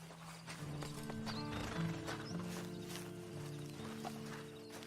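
Hooves clip-clop at a steady walking pace, close by, as a horse gives a few short whinnies and snorts over the footsteps, in the video game Red Dead Online.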